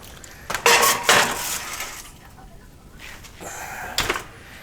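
An oven door clanks open and a glass dish is set inside, giving a couple of sharp clinks and knocks, followed by a quieter thud as the door closes.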